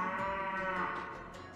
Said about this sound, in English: There's a cow down here.